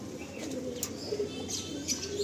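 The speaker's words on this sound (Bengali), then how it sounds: "খুব সুন্দর একটা পায়রা, সাথে এদিকে হচ্ছে ফটকা একটা" Madrasi Andhra pigeons cooing at close range in a loft, soft low coos with a few faint chirps and slight rustling over a background hum.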